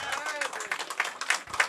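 Loud applause at a non-stop antakshari singing event, clapping spread across the clip with voices talking over it.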